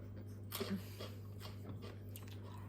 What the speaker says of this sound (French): ça fait vraiment un truc croustillant comme tu sais un peu les maïs grillés